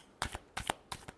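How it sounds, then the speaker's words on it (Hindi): Tarot cards shuffled up close in three quick, crisp riffling bursts, each just a fraction of a second long, with no voices around them. "last shuffle"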